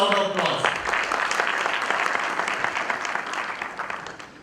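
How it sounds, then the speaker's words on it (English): Dense, sustained applause from an event audience at an ICA Dubai chapter gathering breaks out after a voice and carries on steadily at a fairly loud level, fading slightly near the end. "They all deserve a thunder round of applause."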